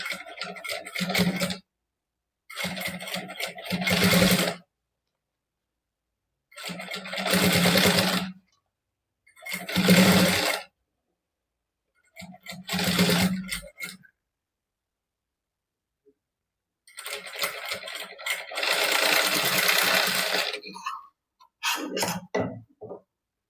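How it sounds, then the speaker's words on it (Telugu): A sewing machine top-stitches piping on a princess-cut back panel, running in several short whirring bursts separated by silent pauses, with one longer run near the end, close and clear with no talking. "ఇప్పుడు ఈ పైపింగ్ పైన ఈ విధంగా స్టిచ్ అన్నది వేయాలి."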